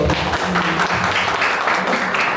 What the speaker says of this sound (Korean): 박수 한번 넣어주십시오.